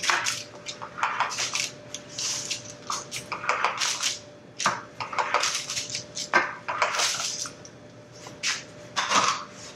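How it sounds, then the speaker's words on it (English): A pizza cutter rolling through cooked eggs on a hard surface, making a series of scraping, clicking strokes of uneven rhythm that sound close and fairly crisp, with no talking. "I'm just going to use a pizza cutter. It's the easiest thing to cut my eggs into 8 equal sections."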